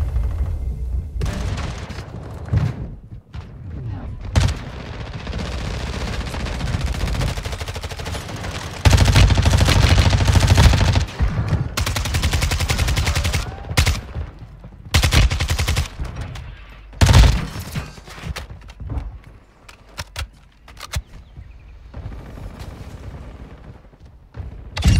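Video game gunfire from an MP5 submachine gun fitted with a 50-round magazine in an online match, loud bursts of rapid automatic fire and booming impacts, with several intense stretches broken by quieter gaps.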